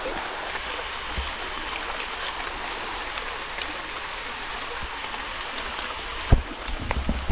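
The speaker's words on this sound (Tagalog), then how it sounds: "naririnig na natin yung pagaspas ng alon" Gentle waves lapping at a shoreline in Aborlan or Quezon, Palawan, a steady broadband wash with a few louder splashes near the end.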